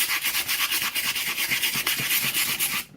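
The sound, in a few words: scraping painted wood on a model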